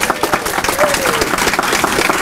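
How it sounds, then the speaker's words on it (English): Audience applause at a library welcome event for a STEAM exhibition at Stony Brook, steady dense clapping from a crowd sustained throughout at a fairly loud level. "Big round of applause for them,"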